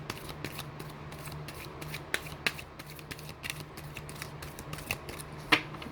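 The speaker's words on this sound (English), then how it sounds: "I'm going to do 2 more shuffles." Tarot cards are shuffled by hand in a continuous papery riffle, close and steady, with sharp snaps and taps popping out now and then.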